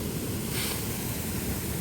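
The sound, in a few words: swollen creek water rushing after heavy Oregon rain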